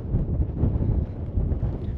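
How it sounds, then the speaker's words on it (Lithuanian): Strong evening wind in Alberobello, southern Italy, buffets the microphone in a steady low rumble with gusting swells throughout, no voices present. "čia vėjas toks stiprus"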